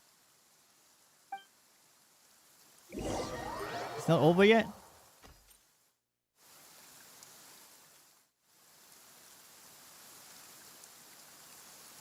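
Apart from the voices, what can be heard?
rain in the video game Genshin Impact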